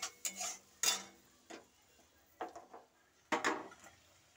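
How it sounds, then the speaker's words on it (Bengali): A curry with kasundi mustard sauce and water is stirred in a pan, giving scattered faint scrapes and clinks of a utensil against metal at an uneven pace. "জল দিয়ে এটাকে আমি ভালো করে নেড়ে নেব।"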